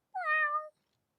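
A single clear cat meow, short and rising then falling, close and alone in silence.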